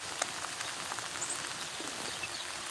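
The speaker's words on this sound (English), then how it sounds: "you can listen to the rainfall underneath the awning." Steady rain falls close by beneath an awning, a dense continuous patter of drops striking the covering, with a few sharper individual drips standing out and no voices.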